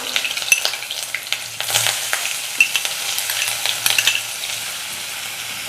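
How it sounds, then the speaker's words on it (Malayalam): Ginger and garlic frying in hot coconut oil, a crisp bright sizzle up close with occasional stirring clinks and scrapes, no voices. "അപ്പോൾ വെളിച്ചെണ്ണ ചൂടായി വന്നിട്ടുണ്ട് ഇനി നമുക്ക് ഇതിനകത്തേക്ക് ഇഞ്ചി ഇട്ട് കൊടുക്കാം കൂടെ തന്നെ വെളുത്തുള്ളി ഇട്ട് കൊടുക്കാം"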